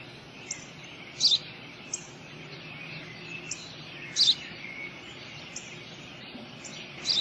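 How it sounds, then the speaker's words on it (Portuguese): A house sparrow chirps in short, bright bursts spaced a few seconds apart, moderately near, over a steady low background hum. "Eu já disse, pai. É um pardal."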